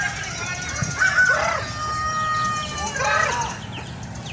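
Nearby chicks give a couple of drawn-out, wavering calls, one early and one later, over steady background noise.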